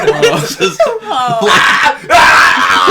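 A woman in a movie clip screams loudly in several strained, wavering bursts, close and intense, ending in a harsh sustained shriek.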